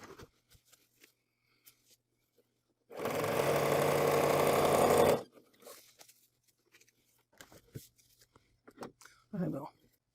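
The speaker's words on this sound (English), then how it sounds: "I'm going to stitch once along this edge, and then I'll turn it under, and then stitch again along this edge." A longarm quilting machine stitches along the edge of a zipper leader in one steady two-second burst of loud mechanical whirring, surrounded by quiet handling noises and a person talking.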